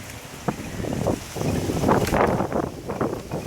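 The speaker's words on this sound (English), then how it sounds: "Sorry, it's windy." Gusty wind outdoors in Florida in March buffets the microphone in uneven bursts, a rough rumbling noise rising and falling throughout.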